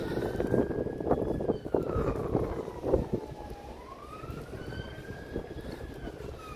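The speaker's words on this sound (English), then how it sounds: "Police siren up there, rude." A police siren wails in the distance in Lowestoft, UK, its pitch rising and falling slowly over wind buffeting and low outdoor rumble.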